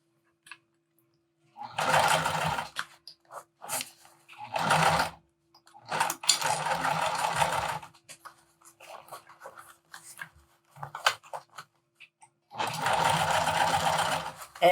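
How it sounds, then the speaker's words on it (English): A domestic sewing machine stitches around a wristlet bag panel in several bursts of steady whirring, starting and stopping with short pauses between runs, close and clear with no talk. "so I just finished sewing the second panel around"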